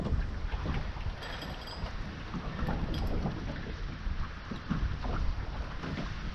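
Gusty wind buffets the microphone and rain falls steadily beside a tropical river while fishing near a bridge, a loud, rough, continuous rushing with no talk.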